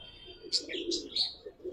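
Old-breed pigeons coo in a low, steady burble with a few sharper chirps on top, heard up close alongside a voice.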